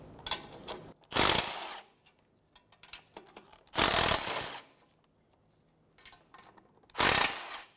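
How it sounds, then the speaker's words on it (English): A 12mm socket ratchet clicks rapidly as it works the bottom nuts off a Chevrolet Sonic, heard in three separate bursts of quick ratcheting with quieter fiddling and small clinks between them. "Using a 12mm socket, remove the 3 bottom nuts for the triangle."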